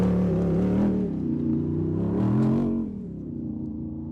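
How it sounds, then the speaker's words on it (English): Vehicle engine running through an aftermarket MagnaFlow exhaust in place of the stock system, a steady loud rumble that swells as if revving, then settles to a lower drone, with no talk. "So the thing really, really sounds great with that MagnaFlow exhaust."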